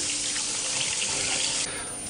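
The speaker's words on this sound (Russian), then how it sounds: "лучше залить его холодной водой" Cold water running steadily from a tap or jug into pots of meat bones for a brown stock, a continuous close splashing rush with no talk.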